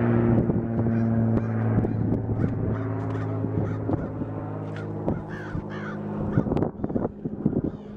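Several crows caw repeatedly, harsh calls overlapping against a steady low hum, with scattered squawks growing choppier near the end.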